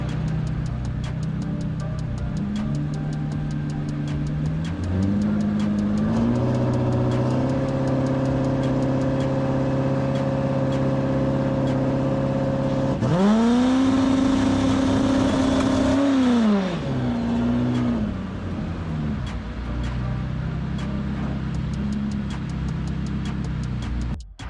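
A turbocharged 5.0L Coyote V8 in a drag car idles with a steady drone, then rises in stages and holds at a preload rev of about 2,000 rpm with the trans brake and line lock on, before dropping back to idle.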